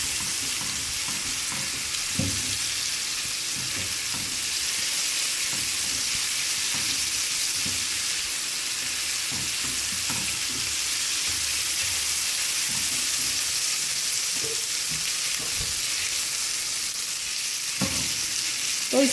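Steady frying sizzle of ginger garlic paste sautéing in a pan, continuous and close, with occasional soft clicks and scrapes of stirring.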